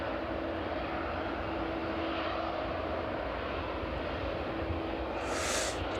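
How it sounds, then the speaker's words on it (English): A 37-year-old Boeing 757 arriving from Reykjavik at East Midlands Airport in the evening, its jet engines giving off a steady, loud roar with a faint whine that holds throughout. "So that's 757 there, arriving here from Reykjavik this evening."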